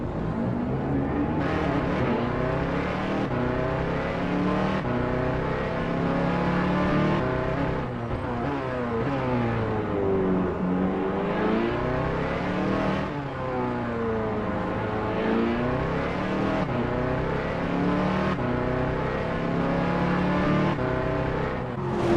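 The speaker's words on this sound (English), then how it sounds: "Now on board with Matthew Overton driving the number 174 Ferrari 296 Evo GT3" Onboard engine of a Ferrari 296 Evo GT3 race car in a racing video game at Detroit, loud and continuous, its pitch rising and falling through repeated gear changes and throttle swells.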